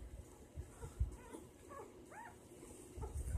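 A newborn puppy gives several faint, high whimpers and squeaks in a quiet room, soft and scattered among low background rustling.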